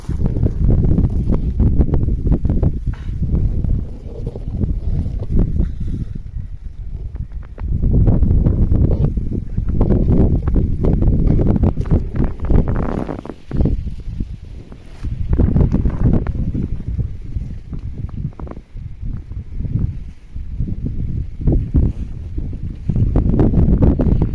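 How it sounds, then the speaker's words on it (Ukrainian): Ripening wheat in a field rustles in gusting wind, long waves of dense low rushing and hissing that swell and fade with each gust, loud and close against the microphone, with no talk. "Як шелестить да, від вітру."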